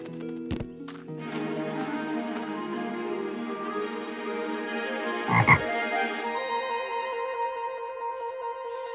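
A cartoon frog croaks repeatedly in a spooky haunted-forest Halloween scene, the croaks loud and close over a steady musical background with one sharp thump midway.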